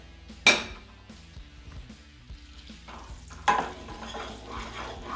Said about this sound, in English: we're gonna start with 1/4 cup or 4 tablespoons of butter. Get that melted down.